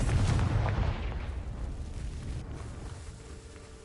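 A Confringo fire spell from the Hogwarts Legacy video game goes off as a loud, booming blast at the start, its rumble trailing away over a few seconds.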